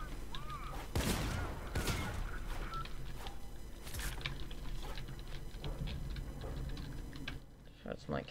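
Gunfire in the video game Fortnite crackles as scattered sharp shots and quick bursts over a dense, busy game soundscape, with a player talking at moments.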